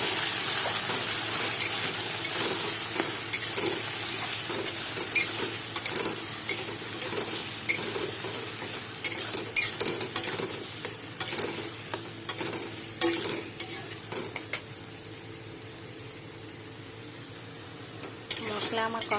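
Green chillies, onion, tomato and garlic sautéing in a pan, a steady sizzle with frequent scraping stirs of a spatula, continuous and close for the whole stretch.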